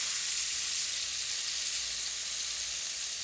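Potatoes fry in a pan with a steady, close sizzling hiss that holds constant throughout, with no voices.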